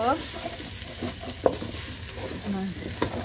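Salt, turmeric, chili and coriander powder are sautéed in oil for a meat curry, with a steady sizzle under repeated scraping stirs and spoon knocks against the pan.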